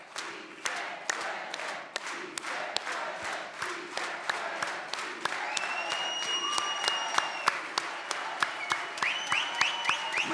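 Sustained audience applause with rhythmic unified hand clapping at a women's hall of fame luncheon, steady and full throughout, with a few faint whistles rising over the crowd toward the end.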